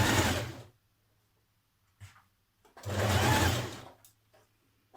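A sewing machine stitches a dress facing in place in two loud, steady bursts separated by a pause, with brief quieter clicks and handling sounds between runs and no voices.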